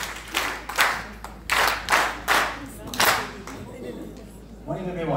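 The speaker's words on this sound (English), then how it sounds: "Let's give him a quality clap." An audience at a project launch in Rustenburg claps for a presenter in several uneven bursts, with murmuring voices underneath and talk taking over near the end.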